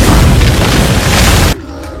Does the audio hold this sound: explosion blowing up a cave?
yes